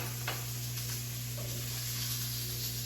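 Steaks sizzle in a cast iron pan with a steady, close, even frying hiss that runs without a break, and no talking is heard over it.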